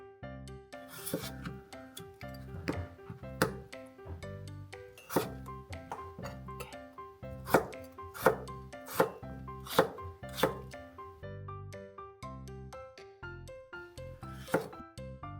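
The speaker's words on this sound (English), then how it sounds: "Then slice it into nice thick pieces." A knife slicing a peeled potato into thick pieces on a cutting board, a series of crisp, distinct chops at an uneven rhythm, close and clear over faint background music.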